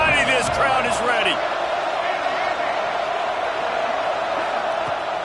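Stadium crowd noise in a college football video game, Ole Miss against Mississippi State, a steady broad roar with some whoops near the start, under a commentator's play-by-play.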